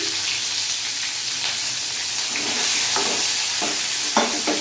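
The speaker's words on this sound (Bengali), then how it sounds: "গোটা গোলমরিচ আর গরম মশলা দিয়ে দিলাম পেঁয়াজ কুচিটা রেখেছি কেটে পুরোটা দিয়ে দিলাম" Chopped onion frying in a pan with whole peppercorns and garam masala for spicy kadai chicken, a steady close sizzle with occasional spoon scrapes and stirs growing louder near the end.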